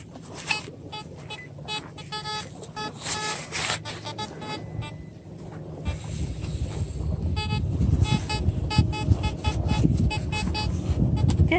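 Metal detector beeping and tonal chirping as it picks up a dog's collar outdoors, a series of bright intermittent tones over a steady background that grows busier and louder toward the end.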